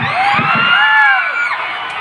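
A concert crowd in Pagadian cheers and shouts with loud, sustained whoops and high yells rising and falling together, a large mass of voices heard close up.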